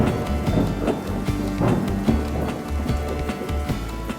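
Summer rain falls steadily, with low rumbles of thunder rolling underneath. The sound stays dense and fairly loud throughout, with no voices.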